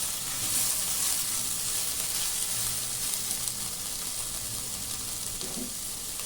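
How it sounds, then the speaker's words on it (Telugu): Broad beans curry with onions frying in a pan, giving a continuous, fairly loud hiss and sizzle with occasional faint stirring. "ఇట్లా కొంచెం వేయించండి, ఒక 2 మినిట్స్ వరకు కూడా వేయించుకుంటూ ఉండండి."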